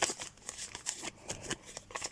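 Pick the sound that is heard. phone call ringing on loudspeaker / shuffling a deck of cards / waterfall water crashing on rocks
shuffling a deck of cards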